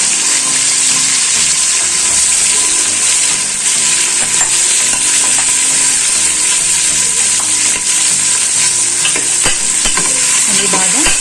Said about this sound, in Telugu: ఆనియన్స్ని బాగా వేగనివ్వాలండి.